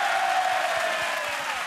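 Big applause for a singer at a festival show, a steady dense wash of clapping from a large crowd, loud and continuous throughout.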